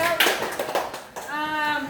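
Children clap briefly in a classroom, a short burst of uneven hand claps mixed with a voice and an adult speaking nearby.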